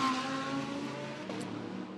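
GT3 race cars climb a hill on the Macau street circuit behind the safety car, a continuous engine drone with shifting pitch as the bunched field passes, no talking.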